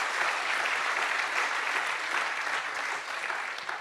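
An audience claps in a sustained, dense burst of applause that holds steady at close range and tapers slightly at the end, with no voices standing out.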